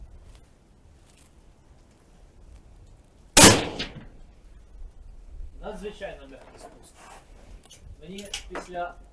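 A single sharp, loud shot from a McMillan ALIAS sniper rifle cracks out suddenly, followed by a brief decaying echo; quiet voices talk afterward.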